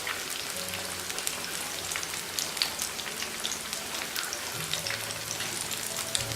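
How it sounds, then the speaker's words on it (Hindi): Pieces of rohu fish fry in hot ghee with a steady, dense crackling sizzle that fills the whole stretch, close and even, with no voices. "अब मैं मछली का एक एक पीस करके ऑयल में रखता जाऊँगा।"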